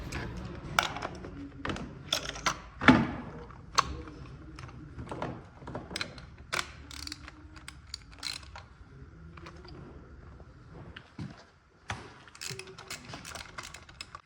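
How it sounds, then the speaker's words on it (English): A ratchet with a 9/16 deep socket loosens a spark plug on a 2009–2019 Toyota Corolla, giving close, irregular bursts of clicking and metallic clatter with short pauses, no talk. "You're going to need to use a 9/16 deep socket to take out the spark plug."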